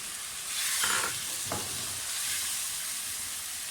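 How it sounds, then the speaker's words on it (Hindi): Masala with ground tomato sizzles and fries in a pot as mutton curry (gosht salan) cooks, with faint stirring scrapes over a steady hiss and no talking. "सारी चीज़ों को भूनकर इसमें थोड़ा सा पानी डाल के इसको थोड़ी देर के लिए ढक दें।"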